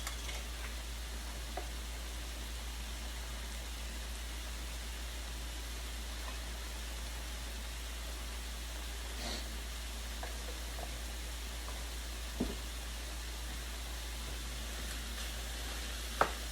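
Shrimp fried rice simmers in a pan with a faint, steady hiss and low hum, broken by a couple of soft clicks near the end.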